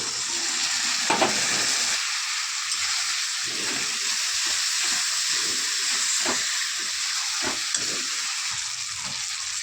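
A spice paste of cumin, turmeric and coriander powder for a fish curry fries in a hot pan, a loud continuous sizzle and hiss with intermittent stirring scrapes close by.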